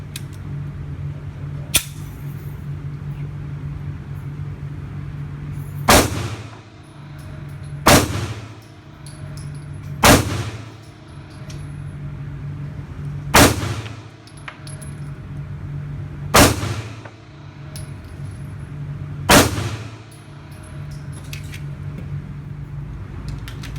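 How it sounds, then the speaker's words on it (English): Remington R51 Gen 2 pistol fired at an outdoor range, seven sharp, loud shots spaced a couple of seconds apart over steady background hum. "So I'm going to turn this over to Austin and let him shoot a little bit, see what he thinks"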